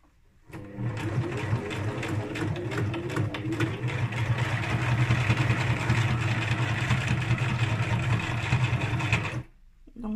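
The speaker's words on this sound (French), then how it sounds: "pour bien sécuriser, moi je fais une surpiqûre tout le tour." Sewing machine running a topstitch around a seam, a steady fast mechanical whir heard close and alone for about nine seconds, starting and stopping abruptly.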